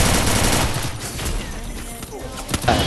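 Rapid video-game gunfire from shooting at enemy bots in a sniper-focused shooter rattles in dense, continuous bursts that thin out and then flare again.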